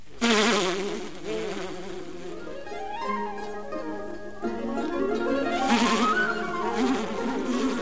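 Cartoon bees buzz in a steady insect-like drone with rising and falling whines, loud and continuous, with swelling tones that may be backing music.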